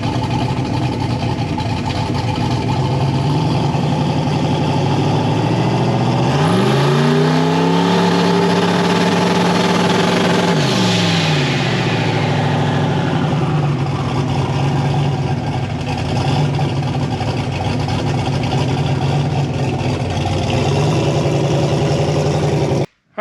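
A big-turbo 5.3 V8 in a driveway idles with a deep, lumpy rumble, then is blipped through two sharp rising-and-falling revs a few seconds apart before settling back to a loud, steady idle.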